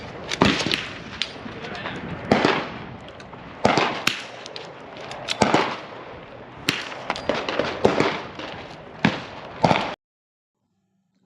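Rapid .22 rifle shots ring out at an outdoor shooting match, a dozen or so sharp cracks in irregular clusters, loud and close, with voices murmuring between shots before the sound cuts off abruptly.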